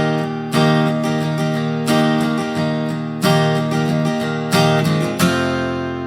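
Acoustic guitar strumming chords for a beginner lesson on a song, holding a D before moving up to an E for a key change; four or five loud, close strums ring out with no talking.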